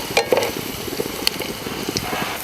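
Garlic frying in hot oil, a close, continuous crackling sizzle with scattered sharp pops and a few scraping stirs.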